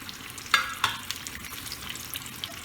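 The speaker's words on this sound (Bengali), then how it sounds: "এইবার বেগুন ভাজাটা হতে হতে আমি দইটা প্রিপেয়ার করি।" Eggplant frying in a pan with a steady soft sizzle, two sharper clatters early on, then quieter crackling.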